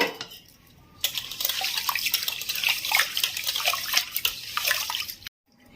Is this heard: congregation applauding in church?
no